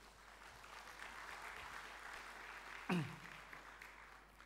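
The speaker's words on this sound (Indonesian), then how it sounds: "Tepuk tangan dulu" A crowd at a Muslim fashion festival opening ceremony claps in a faint, distant, even patter, with one sharp, louder clap or knock standing out near the three-second mark.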